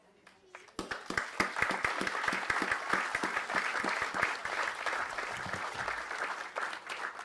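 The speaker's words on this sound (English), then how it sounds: "I'd just like to acknowledge you and give you a big round of applause in Miigwech today" Audience applause for current and past tribal council members at a student roll call honoring event, starting with a few sharp individual claps and swelling into sustained crowd clapping, fairly distant in a large room.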